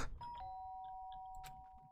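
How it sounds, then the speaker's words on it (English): A synthetic electronic doorbell chime from the video game Danganronpa rings, a sharp tone that hangs and fades slowly, with a few faint soft clicks and blips around it. "The sharp sound of the doorbell pierced my sleepy haze and pulled me back to the real world."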